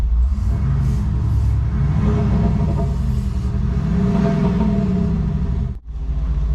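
Land Rover Defender diesel (D300, D250 or D200 model) fitted with an active muscle-car exhaust sound system, a loud, steady low engine rumble held close by, with a brief dip near the end before it resumes.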